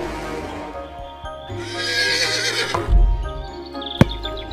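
A cartoon horse neighs in a loud, drawn-out whinny on a 3D farm, mixed with clip-clop hoofbeats and a sharp thump near the end.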